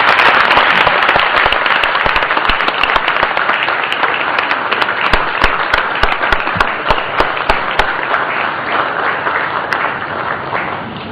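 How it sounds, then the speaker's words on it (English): Audience applause for the chief guest at a formal session, loud dense clapping sustained throughout with sharper individual claps standing out, gradually thinning toward the end. "please join me in applauding our chief guest"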